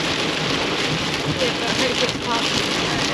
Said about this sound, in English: raining sideways